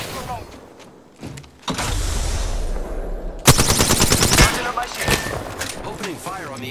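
Rapid automatic gunfire in the Apex Legends video game: a dense burst of fast, evenly spaced shots after a stretch of loud broadband game noise, with scattered softer impacts and game sounds following.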